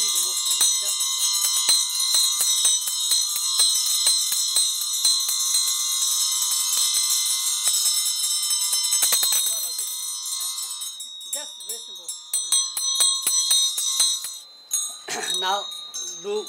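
A Tibetan Buddhist ritual bell rung with a vajra, a sustained bright ringing tone that persists for most of the stretch, then breaks into scattered metallic clinks and brief taps toward the end, with soft chanting voices faint underneath.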